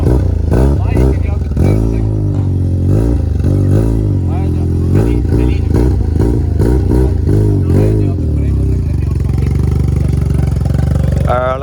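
A rotary-engine car at a beach car meet in Abu Dhabi idles with a buzzy, clattering note and revs up in short bursts several times, loud and close, while people talk over it.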